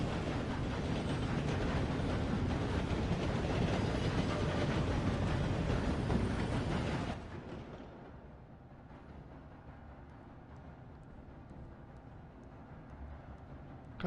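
A steam locomotive in Red Dead Redemption 2 roars loudly through a tunnel for several seconds, then cuts off abruptly to a quiet, hollow tunnel ambience.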